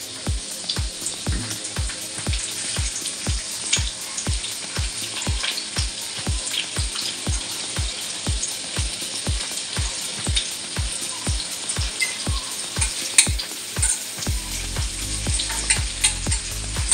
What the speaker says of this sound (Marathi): नंतर मग मी आलं लसूण टाकून घेणार आहे आणि मग मी कांदा ॲड करते